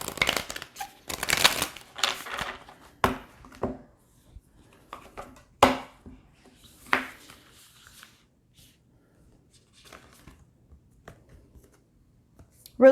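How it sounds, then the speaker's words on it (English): Tarot cards are being shuffled by hand in a quiet room, with several crisp bursts of riffling and tapping close up, separated by pauses and softer handling sounds. "We're going to do one more shuffle."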